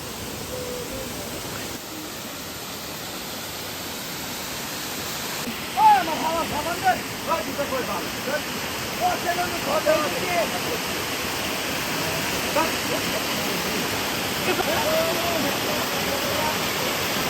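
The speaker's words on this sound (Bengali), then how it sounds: "এগিয়ে যাচ্ছি ঝর্ণা দেখতে।" A waterfall near Tanguar Haor in Bangladesh roars as steady broadband rushing water, while voices talk intermittently over it in the middle.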